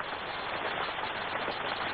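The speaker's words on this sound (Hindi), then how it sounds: "शायद बारिश हो रही है।" Steady rain falls, a dense, even hiss of drops that holds at the same level throughout two seconds with no voices.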